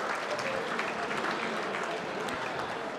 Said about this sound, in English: Round of applause for Fons and the support of All Trophies